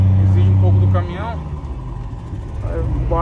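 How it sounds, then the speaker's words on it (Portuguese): A truck engine strains up a long, steep hill. It opens with a loud, deep droning hum that drops after about a second into a rougher, lower labouring rumble that carries on to the end. "Exige um pouco do caminhão."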